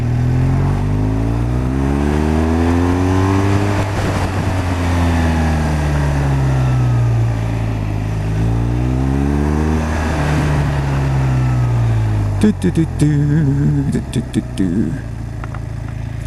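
A twin-cylinder motorcycle chugs up a hill near idle with a deep, loping engine note that rises and falls in slow waves. Loud wind buffeting comes through and a few clicks sound near the end.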